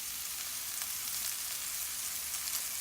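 Mushrooms fry in hot oil in a wok, giving off a dense, steady, close sizzle with a faint crackle throughout and no talking.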